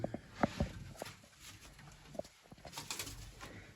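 Pigeons coo and stir inside a coop, with several close bursts early on and softer calls later over faint background noise.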